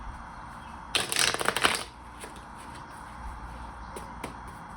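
Tarot cards shuffled by hand in one brisk, close riffling burst lasting about a second, followed by a few soft, faint taps and quiet handling.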